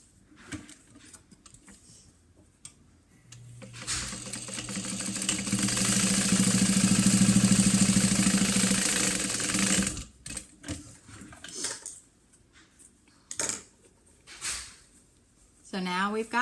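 A sewing machine top stitching down the sides of a small cash card wallet, running in one steady, close whirring burst of about six seconds, with someone talking before and after it.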